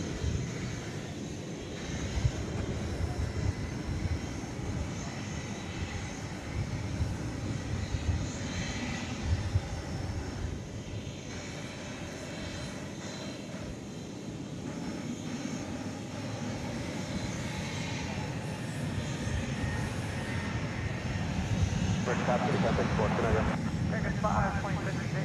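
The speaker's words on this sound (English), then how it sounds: "Iberia Flight 6148 is approaching the takeoff position over there on the east side of the airport. It's an Airbus A330-300 off to Madrid." An Iberia Airbus A330-300 bound for Madrid sits near the takeoff position on the east side of DFW airport at night, its jet engines giving a steady, continuous broadband roar at moderate distance, with a voice talking over it.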